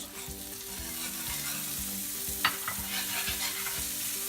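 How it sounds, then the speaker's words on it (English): Butter melts and sizzles with caramelized onions in a pan for smothered pork chops, a steady close frying hiss with soft stirring scrapes and one brief louder clink. "now we're going to add in 2 teaspoons of butter and allow it to melt."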